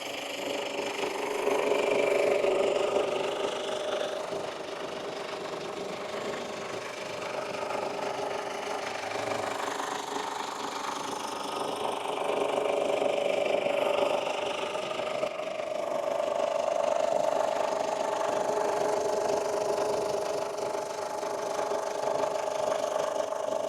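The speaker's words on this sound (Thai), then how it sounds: "มาฟังเสียงเครื่องยนต์ที่ด้านหน้าห้องเครื่องกันนะครับ" A 2007 Ford Everest 3.0 diesel engine idles steadily for a long stretch, heard from fairly close at the front of the engine bay, a low even drone with faint rattling, with no talking.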